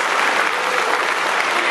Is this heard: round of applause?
yes